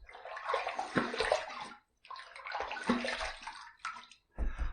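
A shaving brush is rinsed under a running tap, two bursts of splashing water with a short pause between and a brief third burst, close and loud.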